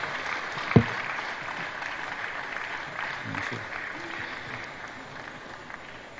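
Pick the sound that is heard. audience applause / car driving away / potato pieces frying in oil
audience applause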